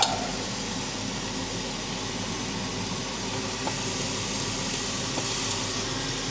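Halved tomatoes fry in coconut oil in a pan, giving a continuous, even, fairly loud sizzle with a couple of faint clicks and no talking.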